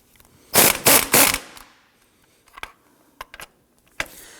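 Socket wrench ratchets on an 18mm engine mount nut of a 2008-2011 Ford Focus, with three loud bursts of rapid clicking followed by a few sparse single clicks.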